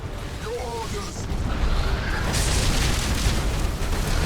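Missiles exploding in the space strategy game Battlefleet Gothic Armada 2 make a continuous roar of booms and bursts. The noise grows louder and denser partway through and stays steady to the end.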